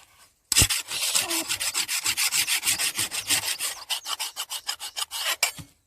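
A knife being sharpened by hand on a farm, with rhythmic back-and-forth scraping strokes repeated steadily about twenty times, close and fairly loud, with no voices.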